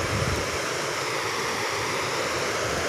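A big river in Misamis Oriental rushes in a loud, dense, continuous roar after heavy flooding, the rocks churning in its current masked within the wash of water.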